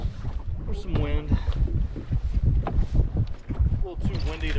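Gusty wind on Mille Lacs lake in late October buffets the microphone in a low, rumbling roar while someone talks over it outdoors, with the blustery noise rising and falling throughout.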